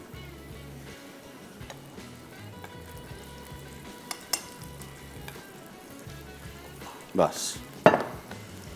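Paratha frying in Eva vanaspati ghee on a pan, a soft steady sizzle with a few sharp clinks of utensils near the end; one brief spoken word.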